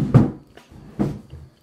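A chair creaks and knocks behind the speaker: two short dull thumps about a second apart, each trailing a soft rustle, close and moderately loud in a quiet room.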